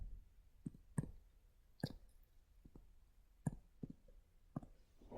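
Calculator keys tapped during a trigonometry calculation, a sparse series of short, sharp clicks at uneven intervals, close and fairly quiet, with no talking.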